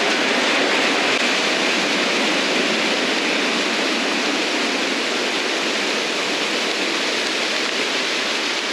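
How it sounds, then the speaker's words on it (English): Heavy rain pours down by a small creek at Phnom Kulen, Cambodia, in a dense, steady hiss, loud and unbroken throughout. "Hopefully you can hear me over the rain."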